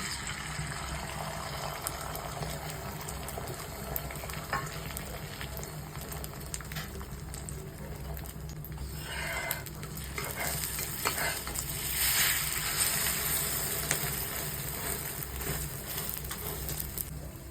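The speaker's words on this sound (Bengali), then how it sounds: "অমলেট ভাজা হয়ে গেছে" Oil sizzles steadily under an omelette frying in a pan, with occasional scraping and stirring noises, continuous and close.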